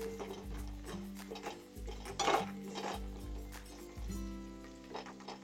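A spoon scrapes and clinks around a pot of mutton curry with turmeric powder, giving repeated stirring strokes and metallic knocks with a brief louder clank in the middle, close and alone.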